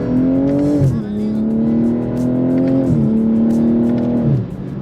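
A car on snow tires accelerates hard, its engine droning loudly and climbing in pitch, then dropping briefly at two quick gear shifts before pulling again, close and steady throughout.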